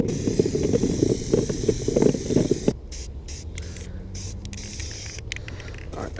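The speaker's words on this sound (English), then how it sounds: "We're gonna spray paint these black so I don't have any yellow on this thing" Rapid bursts of aerosol spray paint hiss as black coats go onto plastic kayak scupper plugs, sounding close and loud at first, then giving way to quieter, broken bursts.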